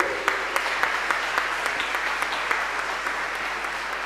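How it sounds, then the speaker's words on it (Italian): A congregation applauds during a solemn evening Mass in church, dense clapping spread across a large reverberant room, even and continuous with a few crisp nearby claps. "Auguri e un applauso a tutti voi."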